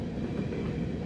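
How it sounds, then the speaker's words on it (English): A train rolls past on the railway near Nortonville, Kentucky, a steady, fairly distant rumble of wheels with no voices. "the train kind of disappears around the curve"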